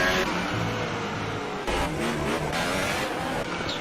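Racing cars on the Monaco street circuit, a loud continuous engine roar with revving surges and a brief dip midway, no voices.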